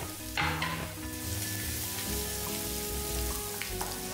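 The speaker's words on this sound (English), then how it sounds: "in a kadai add 1 tablespoon oil and add whole red chili and chopped garlic and saute well" Whole red chilies and chopped garlic sizzle in a tablespoon of oil in a kadai, a steady close crackle with occasional stirring scrapes.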